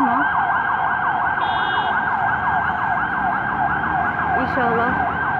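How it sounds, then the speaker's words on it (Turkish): An ambulance siren wails close and loud at the scene of an emergency as a road is closed, its rising and falling tone repeating rapidly and without a break. "Ambulans geldi."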